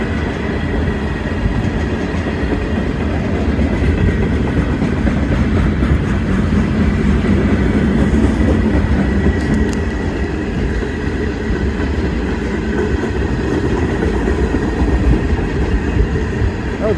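A freight train of empty ethanol tankers and boxcars rolls past close by, a loud continuous rumble and clatter of wheels on rails with faint squeals.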